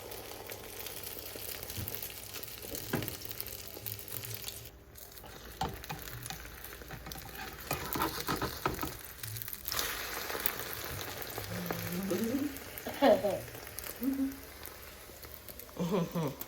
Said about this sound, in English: frying egg for baby Alex.